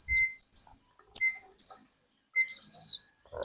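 A white-eye (pleci) songbird chirps nearby in short, high, clear bursts, several quick notes spaced through a quiet background.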